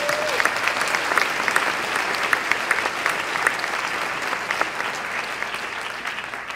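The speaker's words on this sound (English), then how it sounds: "please join me in a round of applause for VIFF's funding partners." Sustained applause from a large audience at the opening of the 2012 Vancouver International Film Festival (VIFF), honoring the festival's funding partners, with dense steady clapping filling the whole stretch.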